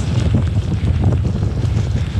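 A moderate 3 to 4 Beaufort wind roars steadily across the microphone on a cold, rainy 200 km road and gravel cycling brevet near Kiel, a loud low rumbling buffet with no voices.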